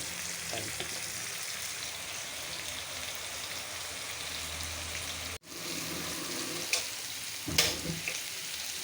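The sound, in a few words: koi fish frying in a pan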